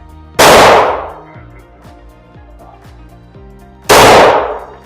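.45 pistol firing two loud, sharp shots about three and a half seconds apart, each with a short decaying echo. Quieter clinks and metallic tones sound in the gap between them, with no voices.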